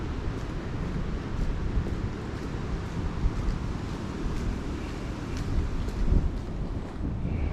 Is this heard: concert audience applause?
no